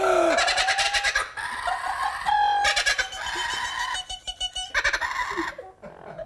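A kookaburra, an Australian bird, lets loose a loud, raucous laughing call at a zoo, a string of rapid harsh cackling bursts that rise and fall for several seconds before trailing off close to the listener.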